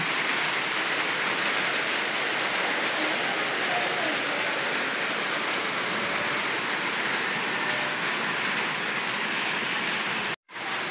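Steady, dense hiss of heavy rain pouring throughout, loud and close, with a brief dropout near the end, as rain leaks into a room.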